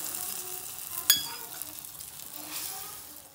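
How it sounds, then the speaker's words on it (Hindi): A hot chhaunk (tempering) is poured into dhaba-style chana dal with spinach, setting off a sharp, loud sizzle burst that settles into a steady, softer frying crackle fading over a few seconds, with no talking. "तो चलिए अब हम छौंक लगा देते हैं हमारी दाल में"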